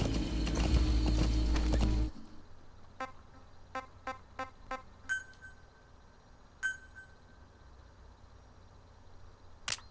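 Horse hooves in Metal Gear Solid V: The Phantom Pain, a string of sharp, separate clip-clop hits in an uneven rhythm that stands out clearly after a loud opening burst of other game sound.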